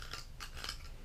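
Three quick crisp snips of cutters cutting through gold-plated pins on computer plugs, close and faint.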